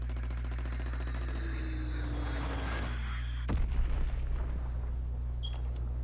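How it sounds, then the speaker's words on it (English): A Fritz X bomb explodes in a video game, one sharp blast cutting through a steady loud engine drone with machine-gun rattle, followed by a short rumbling tail. "Dropping Fritz X bomb."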